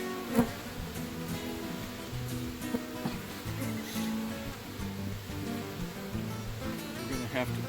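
Honeybees buzz around a growing backyard hive, a faint steady drone of many insects close by, with a few light knocks and handling noises.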